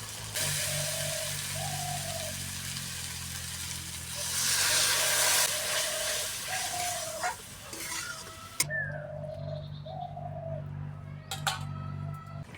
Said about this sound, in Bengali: জলটা ফুটে উঠেছে, এবার মাছগুলো দিয়ে দেব।